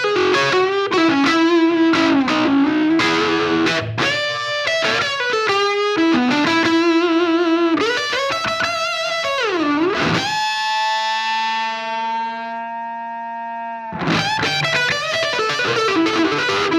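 Electric guitar on the neck pickup, driven through a dirt pedal into a small vintage Supro amp, playing distorted melodic lines and chords, then a long sustained chord ringing out before the riffing resumes; loud and close, no talking.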